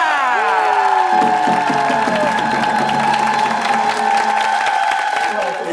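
A studio audience on the variety show Star King cheers and applauds a young singer, a loud, sustained roar of clapping and shouts mixed with bright backing music throughout.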